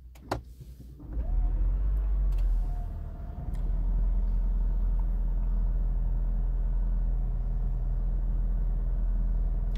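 A Honda Fit Hybrid engine idling as it warms up after a cold start: a steady low rumbling hum holds throughout after a brief mechanical start-up noise at the beginning, close and even with no talking.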